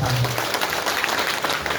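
Schoolchildren clap together at a morning school assembly, a brief dense burst of applause at moderate distance.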